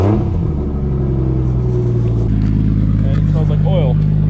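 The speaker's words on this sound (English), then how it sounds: "I'm pretty sure you gotta have the car running." A car with a Toyota 1JZ engine idling with a steady, loud low rumble and hum throughout, the engine suspected of a bad cylinder, while people talk over it.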